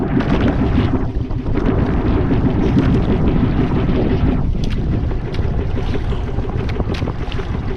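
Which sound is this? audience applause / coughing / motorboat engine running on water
motorboat engine running on water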